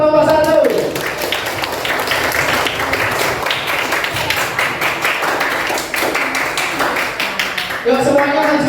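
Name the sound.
classroom applause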